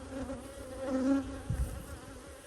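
Honeybees buzz around an open hive in early spring as brood frames are lifted out. The hum is soft and steady with a few near passes, and a brief bump of handling comes midway.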